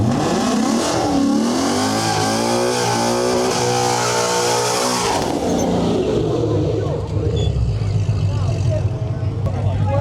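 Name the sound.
Nitrous Mustang and Jeep Rubicon drag racing, engines revving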